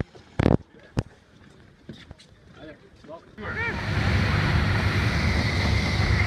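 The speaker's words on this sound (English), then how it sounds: "we are on a boat, yeah. On a body of water" Scattered clicks and bumps give way to a steady rushing wash of water and wind as a tour boat cruises across Maligne Lake, loud and continuous.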